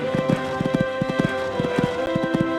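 A horse gallops and jumps on a cross-country eventing course at Kentucky and Badminton, its hoofbeats landing close and clear in a quick, steady rhythm of grouped clip-clops.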